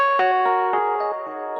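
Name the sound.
Rhodes Mark 1 electric piano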